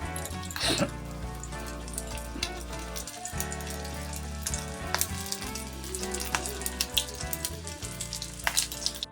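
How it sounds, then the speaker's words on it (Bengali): Egg-coated rolls fry in oil with a steady, watery sizzle over low hum and background music, with occasional clicks and bubbling bursts. "আমি অন্য পাশটাকে উল্টে ভেজে নিচ্ছি তো এইভাবে আমি সবগুলিকে ভেজে নেব এক এক করে"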